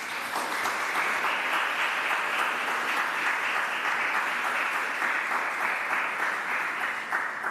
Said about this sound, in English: I would ask you and invite you to applaud them.